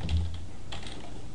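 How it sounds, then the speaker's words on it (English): Light, quick clicks of typing on a computer keyboard, a steady patter of keystrokes close to the microphone with no voice over it. "So we're going to type in UL class, no padding,"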